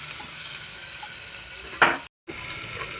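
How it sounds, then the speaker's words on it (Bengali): Onion, ginger-garlic paste and chopped tomato frying in a pan for a vegetable tori curry, a steady sizzle with one louder stir scrape before a brief cut to silence. "এটা কিছুক্ষণ নাড়াচাড়া করে ভেজে নেব।"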